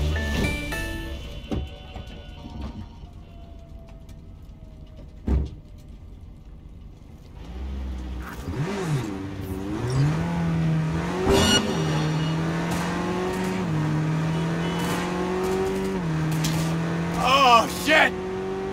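A car in Cyberpunk 2077 accelerates hard during a police chase through Night City. The engine rises and holds at a high rev, loud and close, after game voices talk over the quieter opening.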